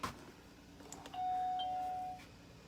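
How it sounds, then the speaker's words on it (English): A doorbell camera chimes once, a steady electronic tone holding for about a second after a brief click, clear and close against quiet room hiss. "so I'm going to ring the doorbell camera"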